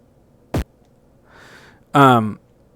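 Three short synthetic Game Boy kick drum hits made in LSDJ: a sharp descending zap, a soft hissy burst, then a louder buzzy tone sweeping downward, each separated by silence.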